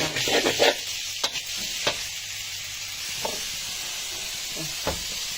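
Pork being stir-fried in a pan with a steady broadband sizzle, broken by a few louder scraping stirs near the start and scattered utensil clatters later.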